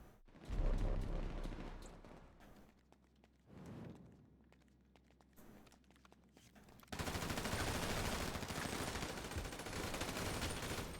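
Bursts of gunfire in GTA 5 Online, a loud rattling volley near the start, scattered quieter shots in the middle, then a sustained dense stretch of rapid automatic fire toward the end.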